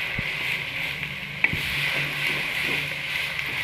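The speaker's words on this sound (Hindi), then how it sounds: "उसी ऑयल में अब मैं दोबारा प्याज फ्राई करती हूँ" Chopped onions, two or three medium ones, frying in oil in a pan for achari bhindi masala, with a steady close sizzle throughout and a soft clink of a spoon near the middle.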